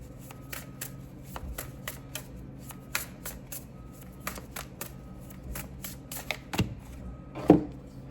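Tarot cards shuffled and handled by hand to draw one more card, giving a run of quick, light riffling clicks and slaps with a sharper snap near the end, close and fairly quiet, with no talking.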